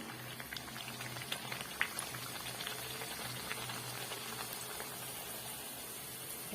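Puris deep-frying in hot oil in a kadai, a steady dense sizzle and bubbling crackle that holds at an even level throughout, with no talk over it.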